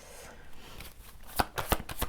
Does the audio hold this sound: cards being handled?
yes